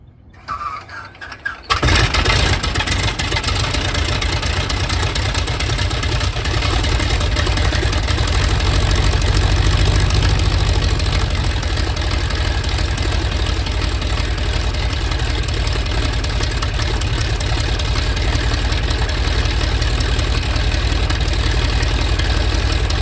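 A Stearman biplane's engine catches after a brief silence and runs up, settling into a loud, steady, rumbling roar that carries on close by for the rest of the stretch.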